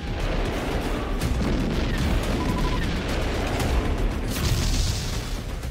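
Explosions and blasts from the war in southern Ukraine, heard as a dense, loud, rumbling barrage of booms and crashes that continues without a break.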